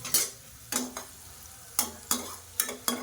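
Onions sauté in a pan for pepper chicken, a steady sizzle broken by six or seven sharp scrapes and clanks of a spoon stirring against the metal.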